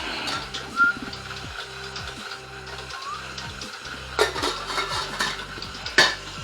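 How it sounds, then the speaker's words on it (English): Big kitchen bowl being handled while preparing bread dough with olive oil, with a few sharp clanks and knocks of the bowl against a surface over a faint repeating low background hum. "I'm gonna get a big bowl"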